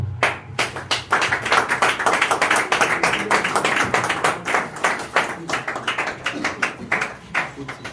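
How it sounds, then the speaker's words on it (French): An audience claps steadily to welcome the next speaker at a press conference, dense applause running close and loud throughout with faint voices underneath. "sous vos applaudissements, nous accueillons le digne fils de Moamba, honorable Alex Kalenda"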